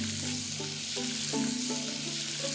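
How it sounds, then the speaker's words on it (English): Boned lamb neck fillet sizzles steadily in a hot pan, a dense continuous frying hiss with faint stirring scrapes, loud and close throughout with no talk. "Now it should sizzle"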